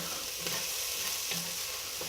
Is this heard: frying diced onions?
yes